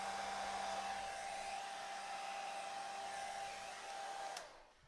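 A hair dryer blows steadily with a constant whirring hum and airy rush, then cuts out abruptly near the end.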